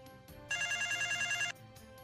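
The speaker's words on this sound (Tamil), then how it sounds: "டொமினோஸ்ல இந்த ஃபோன் வரும்" A phone rings with one loud, bright electronic ring lasting about a second for a Domino's pizza order, heard over quiet background music.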